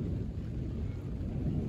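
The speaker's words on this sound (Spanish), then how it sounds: "Escuchen, escuchen esos truenos." Thunder rolls during a storm in Puerto Rico, a steady low rumble with rain-like hiss, fairly faint and continuous throughout, no talking.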